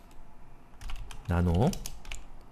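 Quiet keystrokes tap on a computer keyboard while working in a terminal, a few scattered clicks around a short spoken word.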